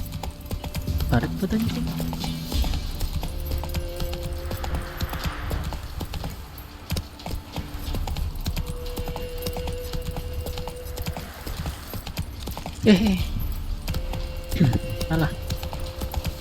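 Horse hooves clip-clopping at a steady pace in the video game The Witcher 3: Wild Hunt, rhythmic and moderately loud under ambient game sound, with a person talking over it.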